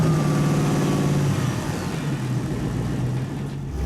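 A supercharged high-performance Camaro engine running with no exhaust beyond cat pipes, a close, steady throaty idle with a slight rev early on before settling.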